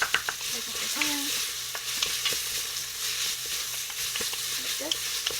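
Onions frying in a pan with a steady, close sizzle while a spoon stirs them in scattered scraping strokes and light clinks.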